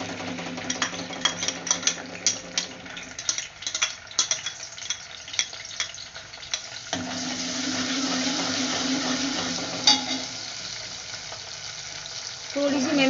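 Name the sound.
garlic ginger paste frying in hot oil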